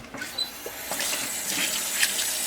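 Warm water running from a tap over an animal skin being washed for taxidermy, a steady close splashing rush with small irregular spatters throughout.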